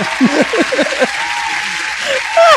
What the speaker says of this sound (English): Zuri, play some applause.